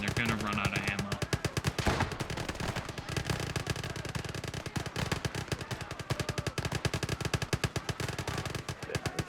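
Rapid machine gun fire rattles in long, dense bursts in a Call to Arms: Gates of Hell battle, loud and continuous, with scattered louder shots and explosions mixed in.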